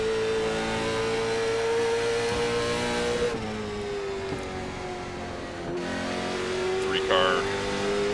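A CARS Tour race car in the iRacing video game at Concord holds a steady, loud engine drone, pitch dipping and rising through corners, with brief tire squeal and a commentator talking over it.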